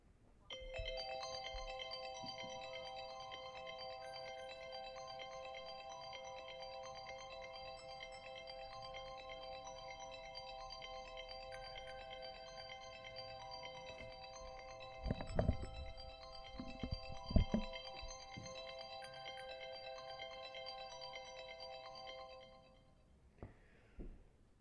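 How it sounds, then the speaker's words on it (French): A ringtone called Constellation plays alone: layered bright chiming tones in a sustained melodic pattern for over twenty seconds, with a few soft bumps near the end before it cuts off. "Prochaine sonnerie, constellation."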